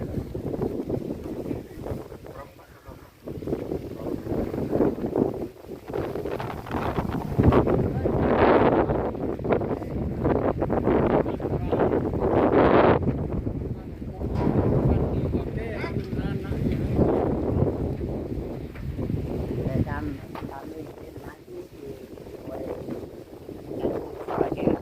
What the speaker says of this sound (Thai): ลมแรงมากทำงานยาก